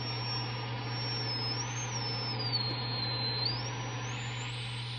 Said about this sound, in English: That tone that you hear is from the BFO.